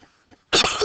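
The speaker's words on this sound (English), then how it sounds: "Let me cough a second." A single sharp, loud cough bursts out close to the microphone after a short stretch of near silence.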